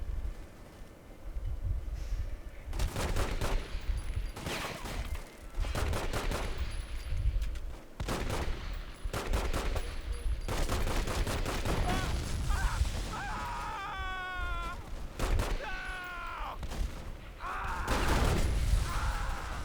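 Rapid gunfire bursts in the Godfather Mob War video game, with dense machine-gun fusillades and single shots repeating in loud clusters throughout, with a brief faint voice-like element near the end.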